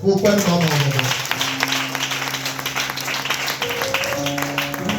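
An evangelical church congregation applauds and claims praise together during a worship service, a steady, dense wash of clapping with sustained musical tones running underneath for the whole stretch.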